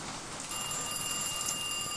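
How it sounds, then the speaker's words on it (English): A telephone rings, clear steady electronic tones that start abruptly after a brief quiet moment and continue over faint background hiss. "Phone call."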